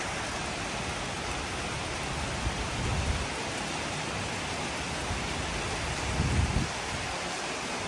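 Heavy rain pours down steadily in a loud continuous hiss, with low rumbling swells around the third and sixth seconds that could be distant thunder or gusts.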